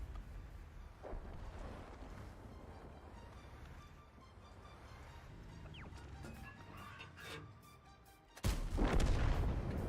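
A heavy tank cannon blast in a video game booms near the end, loud and sudden after a stretch of rumbling game ambience with scattered smaller impacts.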